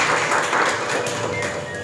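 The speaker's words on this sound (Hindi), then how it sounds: "ज़ोरदार तालियां होनी चाहिए" Dense, steady clapping from a crowd at a book launch ceremony, close and continuous for a couple of seconds with faint voices underneath.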